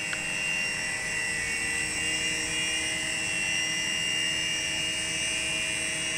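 A remote-control toy helicopter flies nearby, giving off a steady, high-pitched electric whine with a constant rotor buzz and no one talking.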